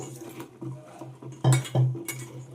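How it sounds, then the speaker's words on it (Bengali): Cut pointed gourds being washed in a basin of water, with soft sloshing, dull clunks against the basin and a few louder splashing bursts, close by and with no talk. "এবার জল দিয়ে 2-3 বার খুব ভালো করে ধুয়ে নেব।"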